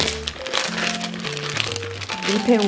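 A plastic zipper bag crinkles and rustles as it is handled in a home kitchen while leftover garlic chives are packed for freezing, with a person talking over it.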